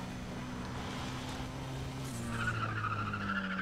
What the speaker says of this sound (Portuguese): Esse barulhinho de pneu cantando é puro Need for Speed The Run, cara.